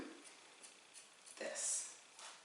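Scissors trimming shoulder-length curly hair in a salon, with a few soft, close snips and one brighter crisp cut near the end, quiet and isolated.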